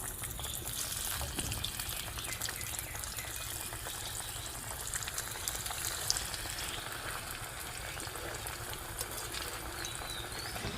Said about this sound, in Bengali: তেলটা মিডিয়াম গরম হয়ে গেছে এবার একটা একটা করে ডিম আমি ছেড়ে দেবো